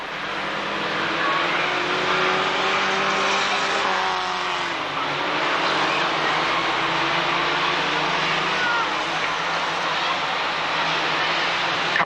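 Formula 1000 race cars at a 1991 Braintree Auto Club meeting, engines droning steadily and loud throughout with rising and falling pitch as they pass, in tricky conditions, with no talk.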